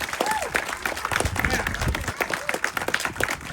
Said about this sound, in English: Give them another huge round of applause.